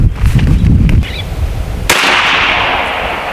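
A single sharp crack from an M50 PCP air pistol, preceded by a second of handling noise, followed by a sustained hiss of air after the shot.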